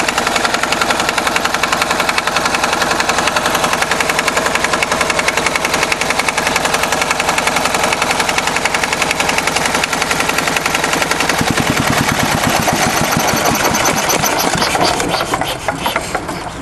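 A small Hatz E79 diesel engine runs with a rapid, even knocking chug, loud and close. The beat continues without pause and its tone shifts near the end.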